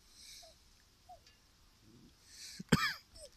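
A single sharp cough rings out near the end, close and fairly loud, after a few faint sounds in an otherwise quiet room.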